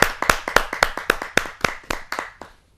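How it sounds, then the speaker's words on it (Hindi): Clapping at a Hindi kavi sammelan poetry gathering: about a dozen crisp, evenly spaced claps ring out close and clear, then fade away into silence. "जोरदार ताली के साथ हम आमंत्रित करते हैं राजीव जी को।"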